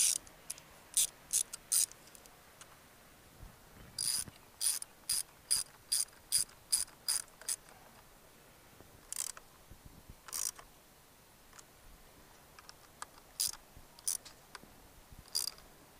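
Ratchet socket wrench working on a 1978 Honda GoldWing motorcycle, close rapid clicking in short repeated bursts with pauses between strokes, no voices.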